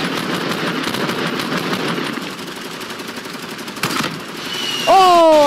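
Rapid automatic gunfire in the battle royale video game Fortnite, a dense continuous burst of shots under game noise, ending in a sharp louder tonal effect near the end.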